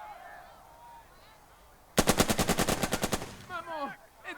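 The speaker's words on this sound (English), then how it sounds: "We absolutely have to machine gun this thing." Machine gun fire in the World War II strategy game Burden of Command, set at Casablanca: a loud, rapid burst of about a dozen evenly spaced shots after quiet ambience, followed by a brief voice.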